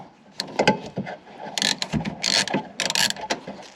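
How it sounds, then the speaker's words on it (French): A hand ratchet working an 8 mm bolt loose on a Tesla Model 3, giving close, quick bursts of metallic clicking in short, irregular strokes separated by brief pauses. "Alors, vis de 8, je démonte."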